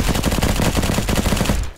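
Rapid automatic gunfire from the Roblox shooter game Bad Business rattles in a dense, continuous burst lasting under two seconds, loud and close, then cuts off abruptly.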